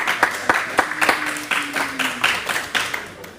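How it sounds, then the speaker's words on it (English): Crowd clapping at a submission-only grappling match in Laguna Hills, a steady patter of handclaps with sharper individual claps standing out, moderately close and lively, with no speech over it. "And the crowd here in Laguna Hills is loving it"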